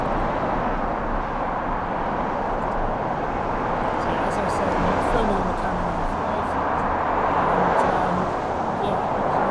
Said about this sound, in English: now I'm going to turn it towards the traffic and see what it's like